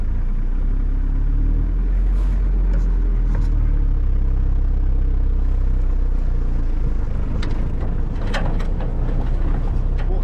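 A car pulls away and drives off, a steady loud engine rumble with road noise heard from inside, with occasional clicks and knocks over it.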